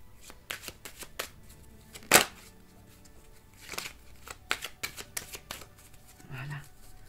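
Playing cards being shuffled at close range, a series of brisk riffling bursts with one loud flurry, alongside a spoken voice.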